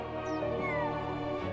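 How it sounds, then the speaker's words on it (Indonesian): A frightened cartoon cat in an animated children's show meows plaintively in one short, sustained cry, set against steady background music. "Kucing malang itu sangat ketakutan dan menangis"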